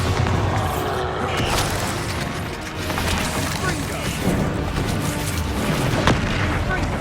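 Spell explosions in the Hogwarts Legacy game: dense, loud booms and crashing blasts pile up with splintering debris and magical whooshes, a chaotic, continuous combat mix from start to end.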